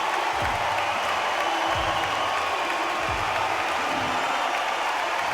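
Crowd noise in the boxing video game Undisputed, a steady wash of cheering and murmur from a large arena audience, with a few low thuds beneath it.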